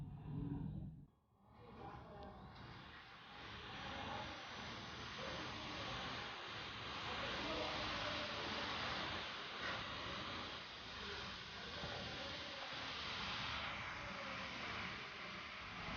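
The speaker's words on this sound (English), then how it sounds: "We can hear the sound of the fans when turbo mode is turned on" Cooling fans of an Asus ROG Strix G731GT gaming laptop running in turbo mode, a steady broadband whooshing roar that stays even and continuous after a brief dip near the start, fairly quiet and alone.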